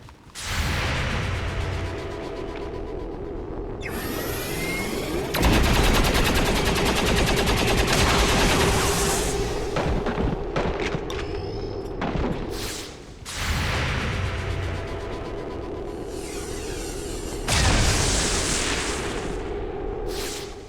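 Bursts of rapid gunfire from XCOM 2: War of the Chosen, with reaction shots fired at Advent troops and a Shield Bearer: loud, dense automatic volleys in several long stretches, separated by short lulls.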